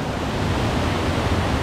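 Waterfall on a river pouring into a natural rock pool at Arroyo Cercado near Jarabacoa, a dense, steady roar of rushing water, loud and close, with no voices over it.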